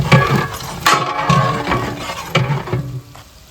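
Brinjal frying in oil in a large batch for biryani, heard as a loud, close sizzle with repeated stirring and metallic scrapes and clinks against the pot.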